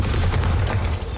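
A Bombarda blasting spell erupts in Hogwarts Legacy as a deep, loud boom that rumbles continuously for about a second before tapering off.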